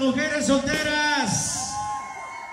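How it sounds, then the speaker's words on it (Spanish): Single women at a Mexican wedding party scream and whoop together as the bride prepares to throw the bouquet, a loud burst of overlapping high shrieks that fades into crowd noise. "a ver dónde está el grito de las mujeres solteras"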